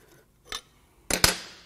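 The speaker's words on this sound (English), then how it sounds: "using a hammer on head bolts aimed at the mating surface" A hammer strikes head bolts on a Mercedes M156 6.2L V8 engine during a teardown, with three sharp metallic hits heard close and alone: one light tap, then two harder blows in quick succession, ringing briefly before fading.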